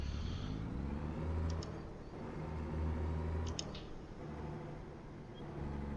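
Kenworth T680 truck engine in American Truck Simulator, a deep steady diesel drone with rising and falling revs and a few faint high clicks, heard alone without talk.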